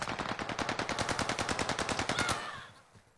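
Rapid automatic gunfire in an online shooter video game, one sustained burst of about twenty evenly spaced close shots that stops and rings out, no talking.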